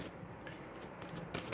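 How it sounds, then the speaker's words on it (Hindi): A deck of tarot cards being shuffled by hand, a soft, close riffling and brushing of cards that runs steadily at low volume with no voices. "मैंने अभी अच्छे से शफल नहीं करा"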